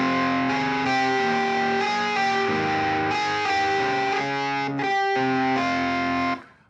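Distorted, gritty music played with fifths only, with sustained chords and a thick buzzing edge, playing loudly and steadily before cutting off at the end.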